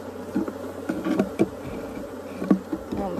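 Steady insect buzzing from many feral honey bees at a hive during an inspection, a dense continuous drone with occasional louder passes close by, and light clicks and handling noises mixed in.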